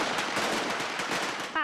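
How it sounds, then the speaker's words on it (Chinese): Strings of firecrackers set off by New Territories villagers in front of homes and ancestral halls on Lunar New Year, a rapid machine-gun-like crackle of sharp pops, continuous and somewhat distant. "亦都有新界的村民按住習俗燒炮仗"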